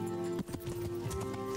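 Horse hooves clopping in the video game Kingdom Come: Deliverance, a soft steady run of footfalls under a constant musical drone.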